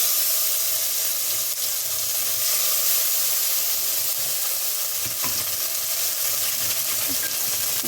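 Turmeric, salt, mustard paste and green chilli fry in a pan, a steady loud sizzle and hiss with occasional faint stirring scrapes, close up and without talk.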